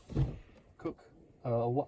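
A drawer sliding open inside a custom four-wheel popup truck camper, a short close scrape and knock between bursts of nearby talk.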